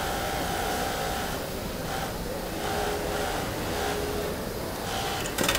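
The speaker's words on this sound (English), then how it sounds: "So this guy's putting the waistbands on to the jeans." An industrial sewing machine stitches waistbands onto jeans in a garment factory, making a steady mechanical whir with soft rhythmic pulses over a constant workshop hum. Nobody speaks.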